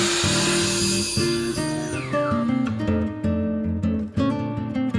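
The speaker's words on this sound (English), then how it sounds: "I'm going to take my 7/8 inch pieces and cut those to length." A power saw cuts wooden trellis strips to length, running in a loud whining drone with several short cuts that change pitch as the blade bites into the wood and then frees, heard alone with no talk.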